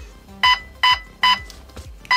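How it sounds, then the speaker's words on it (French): A GATE Aster V2 airsoft fire control unit emits a series of short, sharp electronic beeps at an even pace, each paired with a faint click, heard close and alone. "Ça bip 3 fois"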